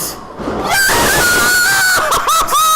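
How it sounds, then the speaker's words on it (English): Two wrestlers at a JAPW pro wrestling show let out loud, sustained high-pitched screams, one wavering shriek stretching over a roaring crowd, then several shorter cries near the end. "Double girl screams"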